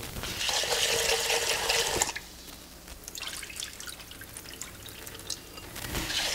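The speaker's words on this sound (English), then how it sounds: "some people scrub their rice. You don't do that. You just keep rinsing it." Rice is rinsed in water, giving close splashing and trickling that is loudest at the start, quieter in the middle and picks up again at the end.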